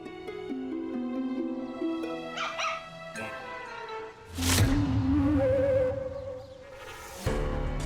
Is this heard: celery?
no